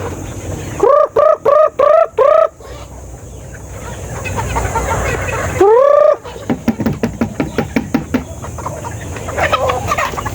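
Chickens and stag roosters in a farm pen: a burst of loud, rapid repeated clucks and calls, then a long rooster-like call and further scattered clucking and fowl noise close by, with no talk.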